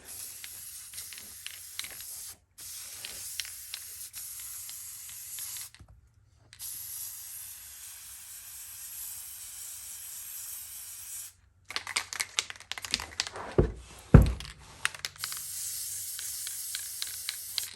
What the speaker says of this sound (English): This is just regular old Gorilla spray adhesive you can buy at any local store.